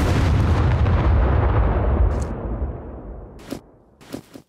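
A TNT charge detonates in the survival video game Scum: one loud, close blast with a long rumbling decay that fades over several seconds, followed by a few sharp crackling debris pops.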